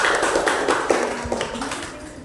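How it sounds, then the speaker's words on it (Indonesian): Students in a teacher-training classroom session applaud classmates after a group presentation, a steady, dense patter of many hands clapping close by, continuous and gradually softening toward the end. "tepuk tangan silakan dulu untuk temannya"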